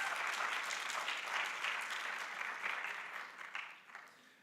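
An audience at a school of health professions research day claps steadily in a dense, continuous round of applause that fades out near the end.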